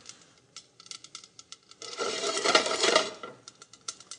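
Mustard seeds popping in hot oil inside a covered pan, giving scattered sharp ticks and crackles that swell into a dense, loud burst of popping before thinning back out to sporadic pops.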